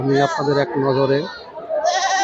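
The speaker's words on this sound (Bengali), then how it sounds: "এই যে দেখেন কত ছাগল" Goats bleat at a local market for native goats, their wavering cries rising close by amid someone talking over them.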